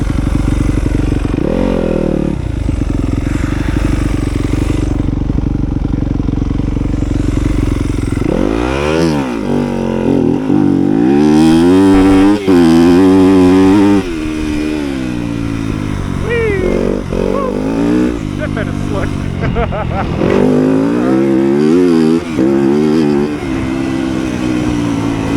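2020 Yamaha YZ250FX dirt bike engine revving hard through a launch, loud and close, pitch sweeping up and down through gear changes as the rider talks over the engine noise.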